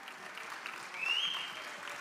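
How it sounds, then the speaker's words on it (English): Faint, distant audience applause at a rodeo hall of fame induction ceremony after an auction sale, a soft wash of clapping that swells slightly midway, with a brief high tone over it. "Give this young lady a great round of applause."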